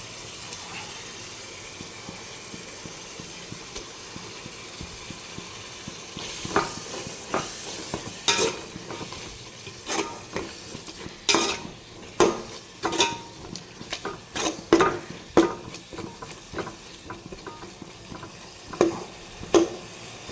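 Masala with coriander and mint frying in a pan for beef gravy, a low steady sizzle with scattered scrapes and clinks of a stirring spoon growing busier partway through.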